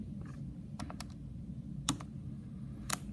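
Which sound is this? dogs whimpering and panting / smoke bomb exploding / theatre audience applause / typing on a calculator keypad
typing on a calculator keypad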